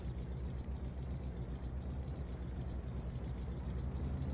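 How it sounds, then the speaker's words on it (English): Truck engine in the Farming Simulator game during spring planting with a 4-row planter, a steady low rumble that stays constant and fairly quiet throughout, with no talking. "If a truck's too loud, you guys gotta let me know and I'll turn the vehicle sound down a little bit."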